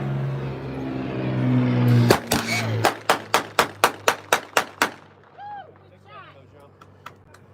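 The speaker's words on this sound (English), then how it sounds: "when you heard the 20s going, that was when the aircraft was practically on top of you" 20mm anti-aircraft guns on the battleship USS Alabama fire a rapid string of about ten sharp, loud reports at an even rhythm, preceded by low engine rumble and followed by echoing decay.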